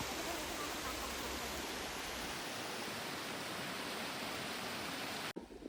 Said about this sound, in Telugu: జాలువారే అందమైన జలపాతం చూడండి ఎంత బాగుందో